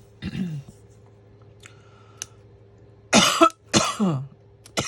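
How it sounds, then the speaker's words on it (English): A couple of sharp, close coughs ring out after a quiet stretch with a faint hum and a brief earlier vocal sound. "Little cough."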